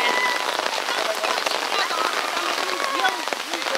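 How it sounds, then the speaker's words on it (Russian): Heavy rain with big drops pounds surfaces outdoors during a downpour in Sudak, Crimea, a dense, continuous, close patter with no pauses. "Дождь такой пустился хороший, капли большие."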